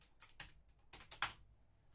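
Computer keyboard typing in short bursts of clicky keystrokes, a few clusters with pauses between them, fairly quiet and close, with no voices.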